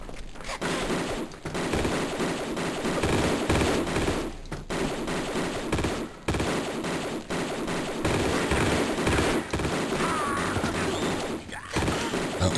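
Shotgun gunfire in the Tomb Raider Remastered game, a dense, loud run of blasts and clatter broken by a few brief gaps, continuing nearly the whole time.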